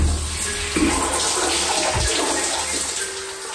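A shower runs for a cold shower, a steady close hiss of spraying water in a bathroom, continuous throughout with slight shifts as the stream is disturbed.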